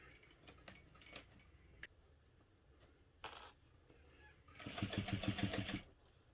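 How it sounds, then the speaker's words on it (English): A sewing machine stitching a backpack, with scattered clicks and handling noises first, then a loud burst of rapid, even stitching near the end, with no talking. "I will just sew directly along the lines all the way to the point"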